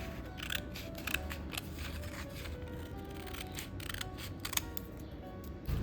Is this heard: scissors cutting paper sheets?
yes